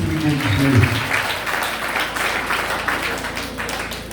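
A church congregation at a Nazarene service applauds together: dense, steady clapping that fades slightly toward the end, with a voice speaking over the applause.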